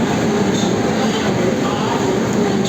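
Loud, steady rumble of the Grand Trunk Express passenger train, Chennai Egmore to New Delhi, hauled by a WAP-7 electric locomotive, with a constant high electric whine, no voices, continuous throughout.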